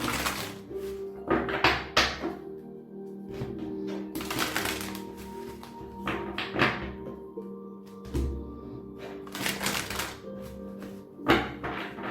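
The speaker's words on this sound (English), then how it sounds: "Let's just shuffle." Tarot cards are shuffled by hand, with repeated papery riffles and soft thuds in uneven bursts against a steady background hum.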